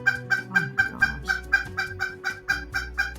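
A pet bird gives a rapid, regular string of loud rooster-like crowing clucks, about a dozen evenly spaced calls close to the listener, with a faint low voice briefly underneath.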